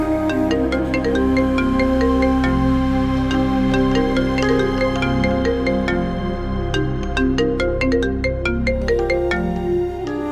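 A phone ringtone plays as a loud, continuous melodic tune of bright repeating tones that rings steadily for about ten seconds, with no voices over it.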